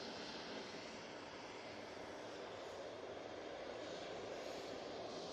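An Airbus A321neo jet airliner takes off at Manchester Airport, heard as a distant, steady broadband engine roar that stays even and faint throughout.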